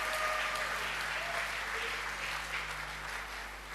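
Church congregation applauding together, steady dense clapping from many hands filling the room at a fairly even level, with a voice speaking faintly underneath.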